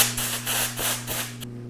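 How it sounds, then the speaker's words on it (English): Compressed air sprays off a dipstick during an oil change on a Honda CRF100 dirt bike, a steady broadband hiss in several pulsing bursts that cuts off abruptly, with a low mechanical hum underneath. "we'll clean off our dipstick, spray it off with some compressed air"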